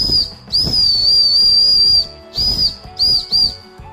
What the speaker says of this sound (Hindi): गाइस एक्चुअल में ये एक सीटी ही है, बट इसका साउंड ज्यादा अच्छा नहीं है।